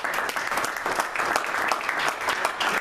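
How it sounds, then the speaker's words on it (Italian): Brisk, dense applause from a startup event audience, loud and continuous with a rapid clapping texture across the whole stretch. "Facciamo un applauso."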